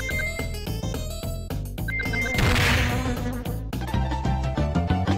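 Buzzing bees drone over a loud, rhythmic music track with pounding beats.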